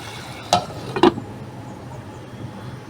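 Pinoy beefsteak simmering in a covered pan, a faint low bubbling bed broken by two sharp metallic clinks close together, like a lid or utensil knocking the pan.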